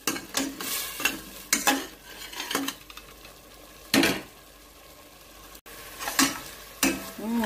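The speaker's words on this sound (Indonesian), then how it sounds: "Aduk sampai merata." A spoon or spatula scrapes and knocks around a pan in irregular bursts, stirring a laksan mixture for Palembang-style laksan, with a light sizzle underneath and brief pauses between strokes.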